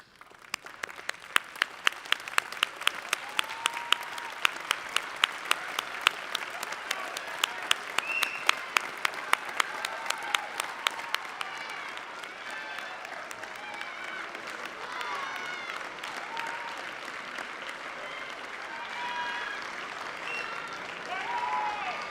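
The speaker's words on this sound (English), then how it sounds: "rise and turn around and to applaud and thank the families and the friends who have supported you through this journey today" A graduation ceremony audience claps, starting with rhythmic, unison beats that grow into sustained loose applause from a large crowd, with faint voices mixed in.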